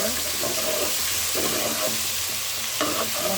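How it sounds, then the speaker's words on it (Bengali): Chicken pieces being stirred with spices in a hot pan for a viral Dubai-style chicken recipe, a steady sizzle with repeated scraping strokes of the spoon, close and continuous with no talking. "মশলাটাকে কষিয়ে নেব এই মাংসের সাথে"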